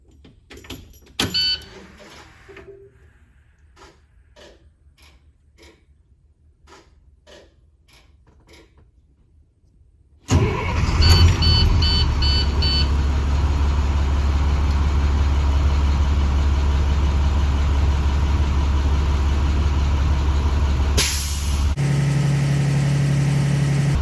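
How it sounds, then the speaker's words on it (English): A bus with a Zonar v3 unit in its cab: after a few clicks and switch sounds, the engine cranks and catches, then settles into a loud, steady low-pitched idle that runs on uninterrupted. "I will go ahead and turn the bus on again"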